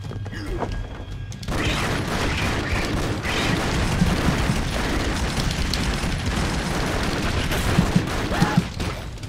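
Dense, continuous tracer-bullet gunfire in the side-scrolling game Broforce, a loud sustained fusillade of rapid shots with crashes and booms layered throughout, starting abruptly after a quiet first second.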